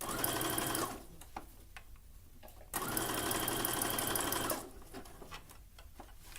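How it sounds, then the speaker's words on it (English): A sewing machine inserting elastic into a tankini swimsuit runs in loud bursts of rapid stitching, pausing briefly between runs with quieter mechanical clicks in the gaps. "I just prefer inserting elastic with my sewing machine"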